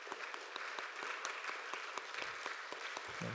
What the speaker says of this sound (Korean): 자리에서 일어날 때 박수로 환영하는 시간을 갖도록 하겠습니다.